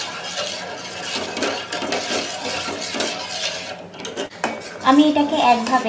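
Milk being stirred in a pot on a stove as it thickens for homemade vanilla ice cream, with steady scraping and clinking of a spoon against the pan throughout and a voice talking briefly near the end.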